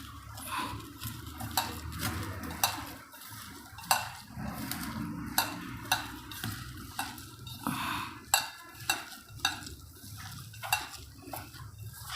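Spices, coriander-garlic paste and lemon juice being mixed in a bowl for gota batter, with repeated clattering spoon-against-bowl knocks and wet stirring at an irregular, busy rhythm.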